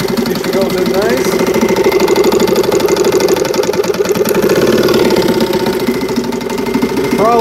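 A 1962 Elgin 7.5 outboard motor runs loud and close, its steady mid-pitched knocking drone holding throughout as it is put into gear.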